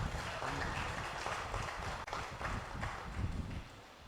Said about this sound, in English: I think the president deserves another round of applause.